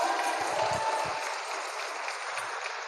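Congregation applause during a Filipino church thanksgiving service, a steady wash of many hands clapping at moderate distance that holds evenly throughout without a break.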